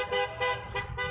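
Car horns honk in rapid, overlapping toots from passing vehicles at a street protest in Edmonton, loud and continuous over traffic noise.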